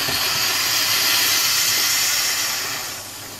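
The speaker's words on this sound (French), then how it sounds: "par un phénomène physique, la pression va partir d'elle-même" Steam hisses steadily out of a pressure cooker being released after cooking pot-au-feu, a loud continuous rush that tapers slightly at the end.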